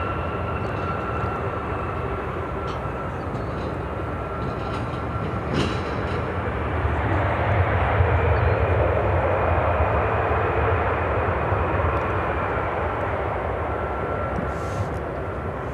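Jet airliners take off at Chicago O'Hare Airport, a loud continuous roar that swells in the middle and then holds steady, heard from a distance with no talking.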